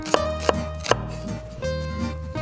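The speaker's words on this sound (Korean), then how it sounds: "그래서 양파를 같이 채 썰어서 섞어주도록 할게요." Knife julienning onion on a cutting board in a Korean cooking-show kitchen: three sharp, distinct chops at an uneven pace, set against steady background music and no speech.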